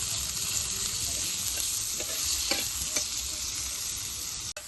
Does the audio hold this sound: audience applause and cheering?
no